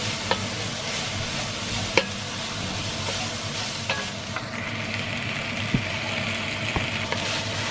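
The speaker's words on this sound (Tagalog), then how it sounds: "lalantahin lang po natin ng konti ang ating sibuyas" Chopped onion softens in a hot pan, giving a steady close sizzle with occasional sharp clicks and scrapes of a spoon against the pan at irregular intervals and no talk.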